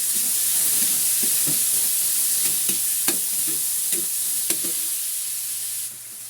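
Chopped onion and tomato sizzle steadily in a hot pan, with a spoon scraping and stirring through them at irregular intervals; close, continuous frying hiss with soft clacks, no talking.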